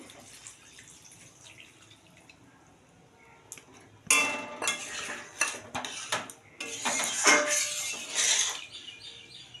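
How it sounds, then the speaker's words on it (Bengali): Milk mixed with a spoonful of flour pours into a pan of bottle-gourd shukto and gets stirred, starting with a faint quiet stretch before the splashy pour and then scraping, clattering spoon strokes up close. "আমি এখন এই দুধটা দিয়ে দেবো।"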